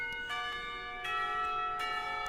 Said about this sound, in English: The clock tower bell rings